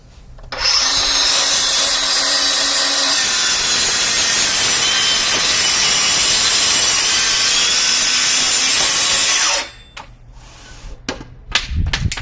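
A Bosch GKT18V-20GC cordless track saw, set about 1 1/4 inches deep, makes one long, loud, close cut through OSB. The high whine holds steady for about nine seconds, then winds down into a few clunks and knocks.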